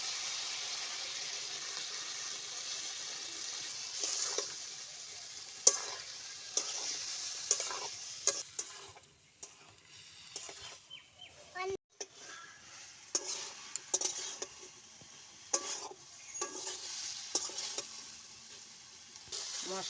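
Ground cumin and chili paste with turmeric sizzling in a frying pan for a fish curry, a soft, crackling fry with intermittent stirring scrapes and clinks of the spatula, fairly quiet and uneven throughout.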